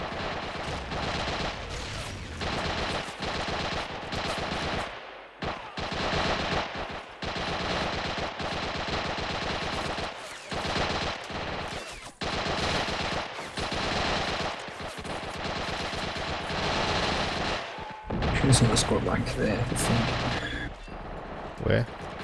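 Submachine gun fire and other gunfire in the Men of War war game, dense bursts and rattling shots with short pauses over about twenty seconds, with players talking underneath.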